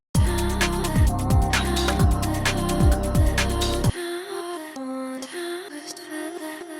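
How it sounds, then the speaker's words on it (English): A vocal with a rewind glitch effect: repeated downward-sweeping tape-reverse swoops chop through a dense, loud music bed, then the track drops abruptly to a thinner, quieter continuation. "Vocal rewind sounds like this."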